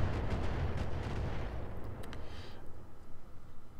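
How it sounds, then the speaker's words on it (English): A mech in the RogueTech mod of BattleTech fires its missiles in a long rumbling barrage of dense low booms and whooshes that slowly thins out, with no talking over it. "after this guy fires all his missiles"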